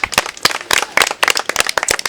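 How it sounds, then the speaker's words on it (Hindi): A crowd at a Hindu New Year gathering bursts into loud, irregular clapping. Sharp, close hand claps overlap in a quick, uneven burst. "जोरदार तालियां बजा दो हिंदू नववर्ष से भैया"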